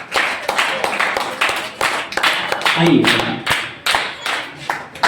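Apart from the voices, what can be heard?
audience clapping to welcome a speaker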